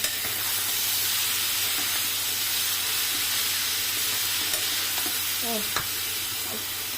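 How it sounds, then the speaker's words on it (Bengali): Boiled, drained papaya stir-fried in a pan gives a steady close sizzle throughout, with light scraping and clinks of a spatula stirring near the end. "পেঁপেগুলো আমি আগে সিদ্ধ করে রাখছি, সিদ্ধ করে এই ছাঁকনিতে ঝরা দিচ্ছিলাম, এখন ভাজি করতেছি।"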